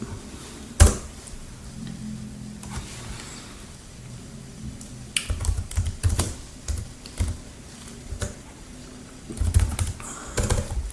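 Keys clicking in short irregular bursts as a password is typed, with pauses between, then a final decisive tap or two; close up and fairly quiet, no talking.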